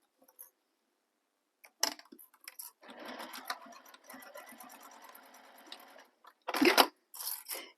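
A sewing machine stitches a handbag in a steady whirring run of about three seconds, framed by sharper clicks and brief bursts as the work is handled.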